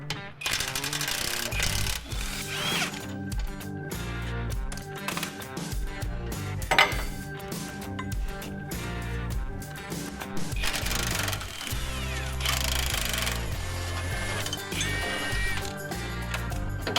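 Metal tools clank and rattle while unbolting an old steering box from a truck, busy repeated clinks, ratcheting and scraping knocks sounding close and continuous.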